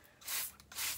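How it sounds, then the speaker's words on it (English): A spray bottle misting water into a crested gecko tank, two quick close hissing squirts in succession, fairly faint. "I spray down the tank,"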